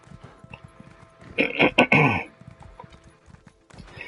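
Rhythmic hoofbeats of a galloping horse in an Elder Scrolls video game drum along steadily, broken by a brief loud burst of noise midway through.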